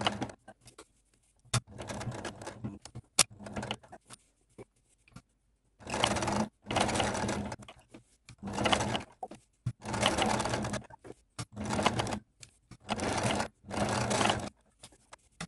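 Sewing machine topstitching around a patch pocket, running in repeated bursts of steady stitching of a second or so each, separated by short pauses, close and fairly loud with no talking.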